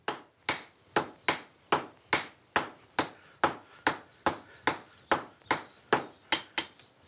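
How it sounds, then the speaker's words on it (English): Blacksmiths hammer iron flat in a steady, even rhythm of about twenty sharp, ringing strikes. Each blow is loud and close, with a brief metallic decay before the next. "Peter and Martin will hammer the iron flat and then bend it at 4 corners"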